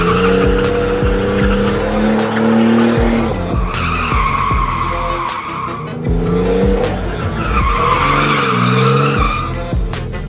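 A car doing handbrake turns, with two long bouts of loud skidding and squealing tires over a revving engine, close and with no voices.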